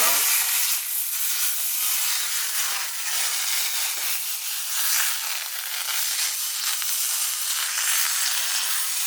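Butter sizzling steadily in a hot pan as it is swirled around, a loud, continuous broadband hiss that holds unbroken from start to finish with no voices.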